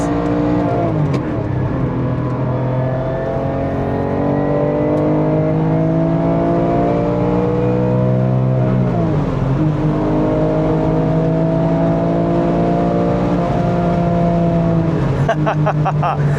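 A Porsche 996 GT3 with about 100,000 miles is driven hard on a race track, its flat-six engine loud and close as it revs and climbs through gears in repeated rising sweeps, with brief drops at shifts.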